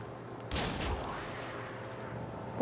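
A single loud gunshot rings out in the action game Nioh 2, a sharp burst followed by a rumbling tail, set against a low ambient hum with no speech.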